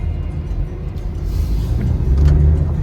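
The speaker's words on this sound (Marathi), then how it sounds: "गाडी चालू की हे बघा झाली सुरू" A car engine catches and runs with a steady low rumble that grows slightly louder toward the end, heard close by with no voices.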